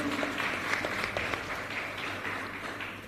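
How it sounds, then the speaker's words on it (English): Audience applause at a local governance conference in Jamaica fills the room, steady dense clapping sustained throughout at moderate level with faint crowd murmur beneath. "Let us give him a round Jamaican round of applause, please."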